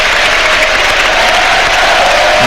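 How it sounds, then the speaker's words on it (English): Home supporters at Craven Cottage during Fulham against Luton Town applaud in a steady, dense wash of clapping from a large stadium crowd, loud and continuous without pause. "And Tom Kearney applauding all three sides of Craven Cottage that have got home supporters in"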